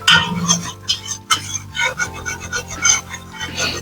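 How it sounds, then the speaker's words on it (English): A whisk working dark roux for gumbo in a pot, with quick metallic clinks and scraping against the sides in an uneven rhythm, close and fairly loud. "You want to whisk so there's no lumps"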